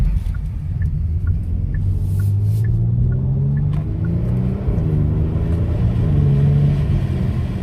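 A 2022 Genesis G70 Launch Edition in Sport Plus mode revs with a deep rumbling exhaust that rises and falls steadily, with faint pops and crackles heard up close and no talking.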